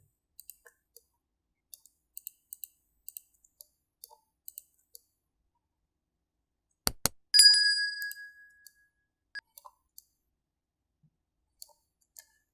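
Sharp, close computer mouse clicks while selecting edges in Blender, scattered singly and in quick pairs, with one brief bright electronic chime in the middle and silence between.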